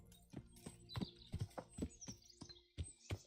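A horse gallops in Kingdom Come: Deliverance, its hooves striking in quick, uneven thuds close by, with faint creaks and chiming over a low background tone.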